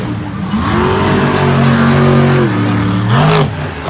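A monster truck engine revving hard and loud as the truck takes huge air off a step-up jump in a stadium at Monster Jam Las Vegas, with the pitch rising, holding and dipping.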